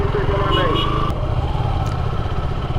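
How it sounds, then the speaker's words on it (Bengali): A motorcycle engine runs steadily at close range throughout, a continuous low rumble on a touring ride toward Kuakata, with faint wind noise and brief higher tones over it. "মোটরসাইকেল"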